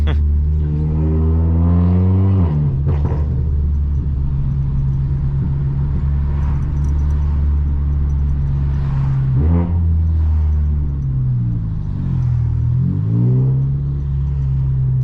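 A 500bhp VW Golf R on town streets revs hard and accelerates, its loud engine note climbing and falling in several close, sweeping pulls over a constant rumble.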